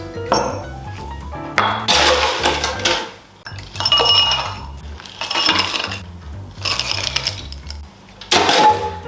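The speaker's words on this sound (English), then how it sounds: "Adding our ice." Ice cubes clatter and clink into a glass holding Aperol for an Aperol Spritz, in several bursts, loud and close, with a low background hum.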